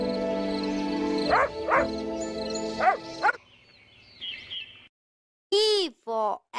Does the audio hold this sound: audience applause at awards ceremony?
no